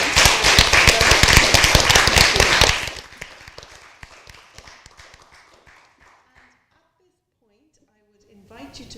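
Warm round of applause from a conference audience for three speakers at a global health conference, loud, close clapping that stops abruptly after about three seconds, leaving scattered claps and faint room noise, with a brief voice at the end.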